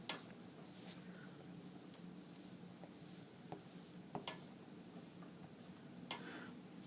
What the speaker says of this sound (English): Let's erase some of this stuff.